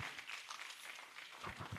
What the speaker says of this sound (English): Let's clap harder for Dr. Taiwo's Felicity